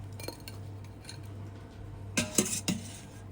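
A few sharp metallic clinks and knocks close by as broccoli is drained in a colander, after a quiet stretch with a low steady hum.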